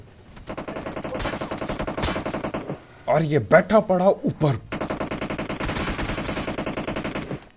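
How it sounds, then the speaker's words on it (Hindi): Rapid automatic gunfire in a battle royale video game, two long sustained bursts of fast shots separated by a brief pause in which someone speaks, loud and close. "आते ही देखो इसने काफी गोलियां चलाई, डैमेज भी दिया मेरे को"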